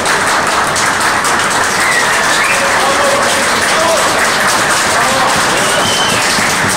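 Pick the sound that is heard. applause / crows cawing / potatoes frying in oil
applause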